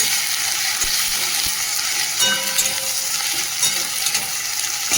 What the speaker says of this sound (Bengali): আদা রসুন বাটাও দিয়ে দিচ্ছি তেলের মধ্যে, একটু নেড়ে নিই আদা রসুন বাটাটা।